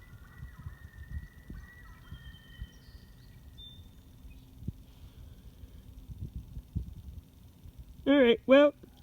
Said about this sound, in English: Man, that bird's pretty loud today